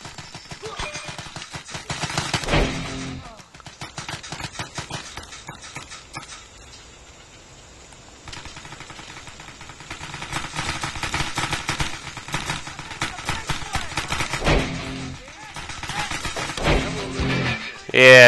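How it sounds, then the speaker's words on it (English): Rapid paintball gunfire in the Xbox 360 game Greg Hastings Paintball 2, dense bursts of popping shots that come and go across the match, with quieter stretches between and a loud burst at the end. "They're shooting at me."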